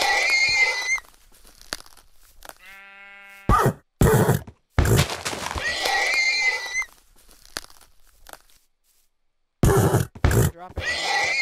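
A horse in the Minecraft video game gives a short harmonic whinny-like cry, set among sharp crunching and thudding game sounds, with several loud bursts before and after and no talking.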